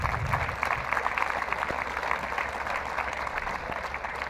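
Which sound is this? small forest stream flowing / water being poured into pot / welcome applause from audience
welcome applause from audience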